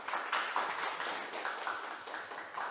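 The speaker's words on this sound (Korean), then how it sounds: "다시 한번 큰 박수 부탁드리겠습니다" An audience at a Korean SW Maestro online program briefing session gives sustained applause, a dense but fairly faint patter of many hands clapping.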